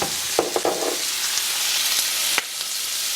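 Seasoned shrimp sizzle hard in a preheated pan, a steady bright hiss broken by a few sharp clicks and scrapes as the shrimp are stirred, with no one talking.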